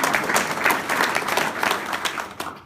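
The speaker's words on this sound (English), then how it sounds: "Let's give these two guys a great round of applause." An audience applauds at a public announcement event, dense sustained clapping from a sizable crowd filling the room, steady and loud, then tapering at the end.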